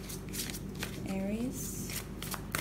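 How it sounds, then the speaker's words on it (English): Tarot cards riffled and shuffled by hand in short rustling bursts, close and fairly quiet, while a voice speaks over them. "let's just pull one card from here"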